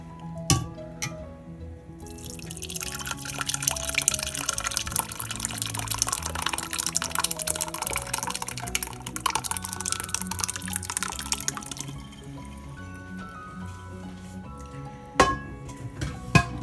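Thin homemade yogurt poured into a strainer, a few drips at first, then a continuous splashing, trickling pour for about ten seconds, tapering off into scattered drips with light clinks of a container.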